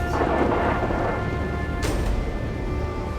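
Heavy rain roars steadily with a low rumbling storm wind strong enough to push a truck around the road, a loud broadband wash, briefly swelling into a gust midway.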